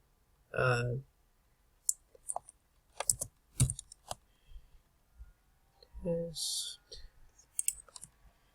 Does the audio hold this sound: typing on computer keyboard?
yes